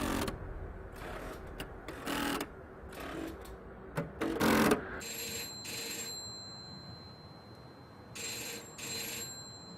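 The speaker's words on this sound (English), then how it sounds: "a call came through to one of the kiosks, and it rang, and it rang" A kiosk telephone rings repeatedly at midnight, its bell sounding in several bursts over dramatic background sound, with shrill, loud rings up close and no talking.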